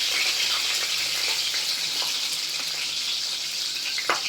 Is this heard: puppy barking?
no